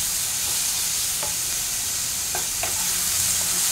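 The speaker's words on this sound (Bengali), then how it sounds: "এবার আমি এটা ফ্রাই করছি" Mixed Hakka noodles fry in a pan with a loud, continuous sizzle, broken by a few brief scraping stirs and no voices.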